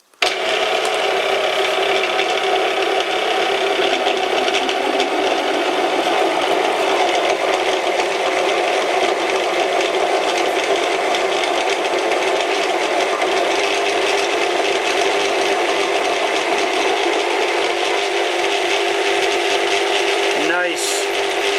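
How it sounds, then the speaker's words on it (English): An Irwin drill bit bores into a workpiece on a lathe turning at 210 RPM, giving a steady, continuous grinding rasp that holds evenly for about twenty seconds before a brief knock at the end. "we'll see if it will drill. I've slowed down the lathe to 210 RPM"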